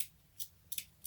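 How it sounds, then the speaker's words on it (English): Three quick, crisp snips of scissors cutting through furry fabric, quiet and close. "if we just take our scissors and just cut"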